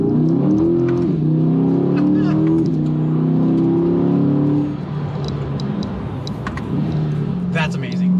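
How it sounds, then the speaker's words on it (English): The V8 of a 2020 Chevrolet Corvette C8 revs close up, holding a loud, throaty tone that climbs in pitch in stages, then drops away and settles into a lower burble. "you get to rev it out. And if you've never revved out an American V8"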